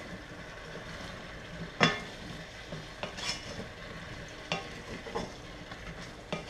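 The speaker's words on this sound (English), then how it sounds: "you want to give this a good stir. And I get the pumpkin nice and coated in all of the onions and the jeera and the oil" Pumpkin pieces being stirred in a pan of hot oil with onions and jeera (cumin), with a soft steady sizzle, occasional utensil scrapes and clinks against the pan, and a sharper knock near the start.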